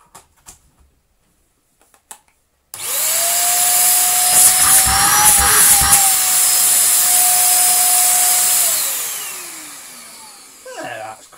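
A Belaco BUVC135 vacuum cleaner switches on with a sharp start, runs loud and steady with a high motor whine for several seconds, then winds down with falling pitch; a few soft clicks before it starts.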